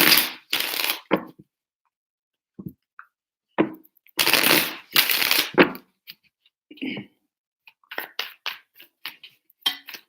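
Tarot cards are shuffled in several separate bursts of close riffling and flicking, with quiet gaps and small taps between them.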